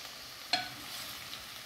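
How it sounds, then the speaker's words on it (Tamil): Masala for undhiyu sautés in oil in a pan, giving a faint, quiet sizzle with one sharp stirring scrape or clink near the start, no talking. "ஓகே மசாலா இது வதங்கியாச்சு."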